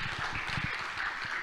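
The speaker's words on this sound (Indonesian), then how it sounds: "Bang, boleh tepuk tangannya." An audience claps for a guest invited onstage at an Indonesian arts talk event. The applause is a dense, steady patter that lasts briefly with no one speaking.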